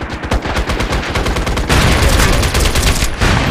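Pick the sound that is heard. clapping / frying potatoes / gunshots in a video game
gunshots in a video game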